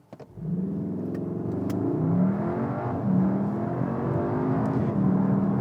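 Cupra car accelerating from a standing start, heard from inside: the engine catches after a short pause, then pulls with a steadily rising note and a gear change, loud and continuous with no talk.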